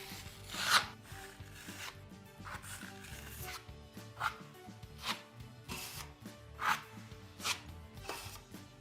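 Light hand sanding of a Gyproc plasterboard patch coated with Easy Fill 20 filler, with close, irregular rasping strokes of varying strength and short pauses between them.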